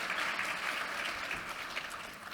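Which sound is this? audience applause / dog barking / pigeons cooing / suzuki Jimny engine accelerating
audience applause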